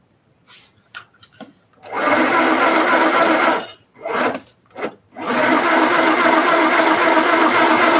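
A sewing machine stitches in loud, steady bursts, running several seconds at a time with brief stops between runs and a long continuous stretch at the end, heard close by with no talk.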